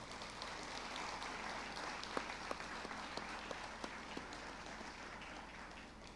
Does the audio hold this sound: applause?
yes